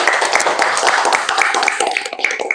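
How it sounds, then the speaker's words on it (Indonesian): A classroom of students claps for a classmate, a busy, close patter of many hands clapping unevenly for a couple of seconds, with a few stray claps standing out near the end. "Tepuk tangan dong buat Firda."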